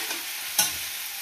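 Potatoes roasting in ghee in a pan make a brief, close sizzling hiss, with one sharp stirring scrape in the middle.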